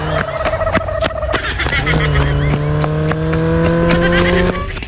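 A motorcycle engine revs up and down in quick rising and falling pitches, close and loud, with people talking over it in a street setting.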